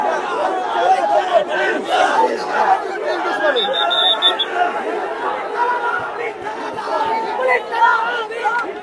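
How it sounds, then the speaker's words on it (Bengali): College students from seven colleges chanting slogans at a protest in Dhaka, facing off with Dhaka University students: a dense, loud crowd roar of overlapping shouting voices, steady and sustained with rhythmic surges. "এই মুহূর্তে 7 কলেজের শিক্ষার্থীরা বিভিন্ন স্লোগান দিচ্ছেন।"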